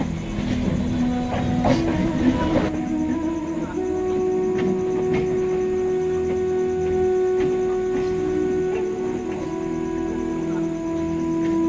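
A Shoranpur local train pulls into platform 3 at a railway station, with a steady close rumble, rattling wagons and a sustained high whine from the wheels or brakes running for about twelve seconds, with no talking.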